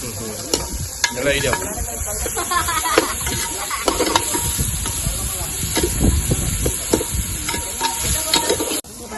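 Onion and tomato sautéing in a pan for mutton kuzhambu: a continuous loud sizzle and hiss with clattering stirs and spoon scrapes throughout, while a voice talks over it.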